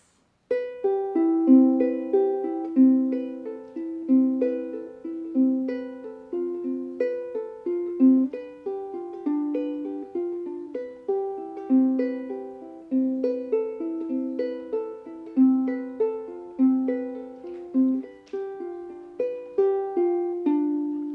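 A steady progression of chords played on a keyboard instrument, each chord struck in an even rhythm and left to ring, with no voices.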